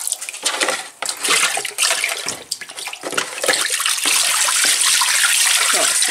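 Dyed wool locks rinsed in water, with splashing, pouring and swishing in a basin, close and fairly loud in uneven bursts before settling into a continuous running flow.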